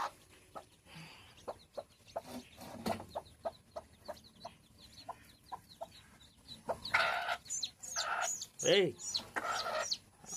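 A hen clucks in short, evenly spaced calls as her chicks peep faintly around her, with livelier, busier clucking and squawks near the end and a person speaking briefly in between.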